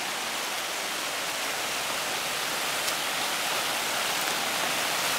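A waterfall on a brook spills down from Osier Pond toward the river near an old mill dam, giving a steady, broad rushing wash that holds an even level throughout with no voices.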